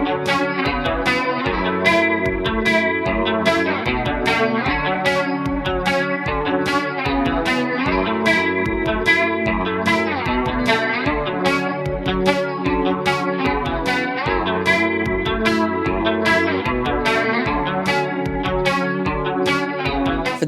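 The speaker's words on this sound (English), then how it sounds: "Also going to be using the Chroma console by Hologram Electronics. And I'm going to be using the cassette texture on here as well as some reverb." An electric guitar overdriven through a Fuzzimp Machina II pedal runs through a Chroma Console cassette texture and reverb, playing a steady, rhythmic riff with dense, saturated chords repeating at an even pulse, loud and without any voices.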